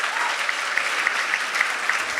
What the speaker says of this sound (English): Round of applause for all these amazing sponsors.